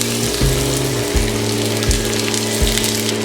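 Chopped onion sautéing in a pan with cloves and other whole spices for a restaurant-style mushroom dish, a steady close sizzle broken by a few soft clunks of stirring.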